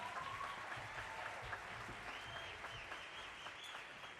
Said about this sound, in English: one more round of applause for first block